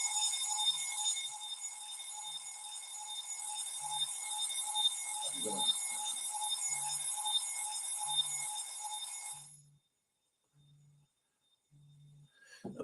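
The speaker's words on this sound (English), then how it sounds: "My apologies if you can hear the alarm going off in the background." A phone alarm beeps loudly and steadily in the background, a dense repeating electronic tone that runs for about nine seconds and then cuts off abruptly, leaving near silence with a few soft low taps.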